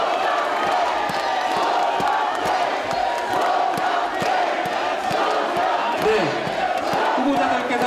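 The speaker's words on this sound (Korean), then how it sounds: "계속해서 힘찬 박수 보내주십시오." Large crowd of delegates at a Democratic Party city chapter convention in Daejeon applauding and cheering loudly and continuously, a dense roar of clapping and voices filling the hall throughout.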